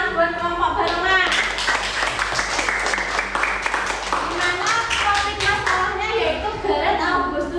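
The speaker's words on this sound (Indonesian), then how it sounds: "Tepuk tangan buat kelompok barengan." Classroom applause for a student group, steady clapping from many hands filling the room at close range, with children's voices mixed in.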